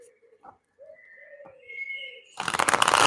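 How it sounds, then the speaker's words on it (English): Outdoor birds give a few soft, mellow coos in a slow series at moderate distance, followed by a loud burst of rustling noise at the end. "And hopefully we'll still hear these beautiful birds."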